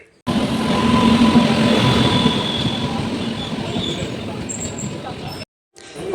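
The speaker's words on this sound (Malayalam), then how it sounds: "ഇത് ഞങ്ങൾ പോകുന്ന ട്രെയിനാട്ടോ ഗുരുവായൂരിലോട്ട്" A passenger train bound for Kuttippuram rolls along with a loud, steady rumble of wheels on rails and faint squeals, heard from nearby, with voices underneath before a brief cutoff near the end.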